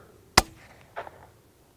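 A single sharp crack of a .22 LR rifle fired at a distant target, one short report up close, followed by a faint, brief sound about half a second later.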